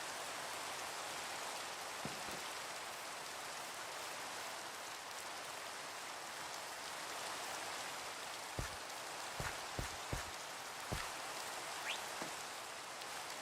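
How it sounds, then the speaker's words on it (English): Steady rain in a video game, a soft, even hiss of falling drops with a few faint clicks and taps scattered through the second half. "Oh, look at the rain though."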